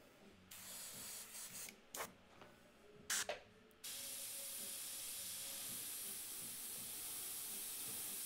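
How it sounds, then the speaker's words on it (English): An airbrush, its vent just cleared with a toothpick, sprays in short hissing bursts, then settles into a steady, even hiss that runs on alone, close and quiet. "And there it is, spraying just like a dream again."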